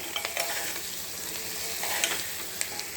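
Curry with drumsticks and coriander being stirred in a pan, a steady close sizzle of frying with scraping stir strokes and a few sharp clinks, alone without talk.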